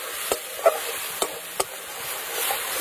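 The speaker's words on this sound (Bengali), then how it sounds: "এবার টমেটো আর পেঁয়াজ ভালো করে ভেজে নেবো একসাথে" Tomato and onion fry together in a pan for a fish curry, with a soft steady sizzle and a few sharp clicks from stirring against the pan, without any voices.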